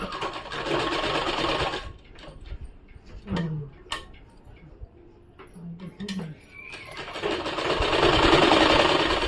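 A sewing machine stitching a kameez whirs in a fast, steady run, stops for a stretch of quiet handling and brief speech, then whirs back up loudly at the end.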